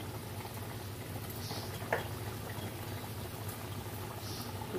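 Potatoes simmering with spices in a pot of water on the stove, a soft continuous bubbling and faint gurgle at low level, with a brief clink partway through and no talking.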